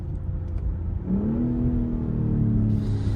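A 2023 BMW X3 M40 SUV engine rumbles low, then its pitch climbs smoothly as it accelerates, a steady rising whine over a deep drone, heard from inside the car.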